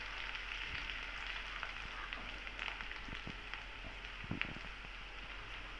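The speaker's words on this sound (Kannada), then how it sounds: "ಎಲ್ಲನೂ ನೋಡ್ರಿ ಎಣ್ಣೆ ಒಳಗೆ ಫ್ರೈ ಆಗಕತ್ತೈತಿ" Onion, garlic, green chilli and cabbage fry in hot oil for gobi manchurian, a steady faint sizzle with soft crackles and occasional stirring taps, with no voices over it.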